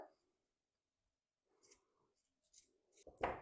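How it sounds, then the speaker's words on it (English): Scissors snipping off extra fabric in a quiet room: a few sparse, close cutting clicks and rustles, the sharpest one at the very end. "I just need to snip off a little extra."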